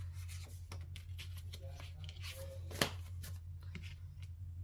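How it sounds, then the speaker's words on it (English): Tarot cards being handled and slid back into the deck, with soft rubbing and shuffling scrapes and one sharper tap midway, close up over a low steady hum. "And then I'm going to put the rest of these cards back."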